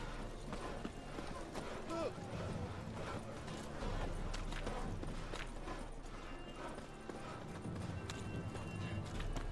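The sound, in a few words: horse hooves, from a video game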